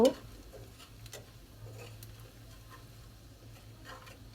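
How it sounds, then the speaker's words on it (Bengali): Salt, turmeric and spices being stirred and sautéed in a pan for a potato-greens and small fish curry, a soft low sizzle with occasional scrapes and clicks of a spoon, steady and fairly quiet after a brief louder knock at the start. "তারপরে আমরা মশলাটাকে একটু কষিয়ে নিব"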